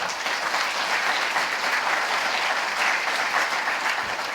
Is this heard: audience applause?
yes